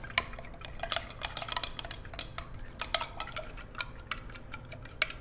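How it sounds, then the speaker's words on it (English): A utensil stirs ammonium dichromate powder into liquid in a container, giving steady, irregular clinks and ticks against the vessel, fairly quiet and close, with no talking. "But I want to keep stirring it."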